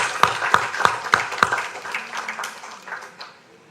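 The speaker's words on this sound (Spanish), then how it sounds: "Y por eso tenemos un aplauso" People in a Congress hall give a brief round of applause: a few sharp, rhythmic claps at first, then scattered clapping that thins out and fades.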